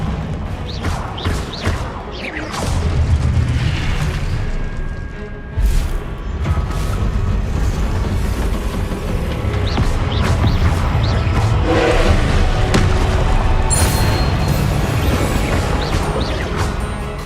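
Repeated Confringo fire-spell blasts in Hogwarts Legacy on PS5, a dense run of loud booming crashes and thuds within constant game noise, with several sharp impacts spread across the whole stretch.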